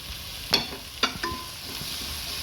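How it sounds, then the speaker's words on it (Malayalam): Chopped potato and tomato sautéed in a pan for a macaroni dish, with a steady soft sizzle broken by a few sharp scrapes of a spoon stirring, close by and with no talking. "ഇതെല്ലാം കൂടെ നന്നായിട്ട് ഒന്ന് വഴറ്റിയെടുക്കാം"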